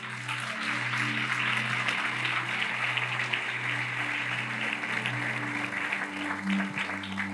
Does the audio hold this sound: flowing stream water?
no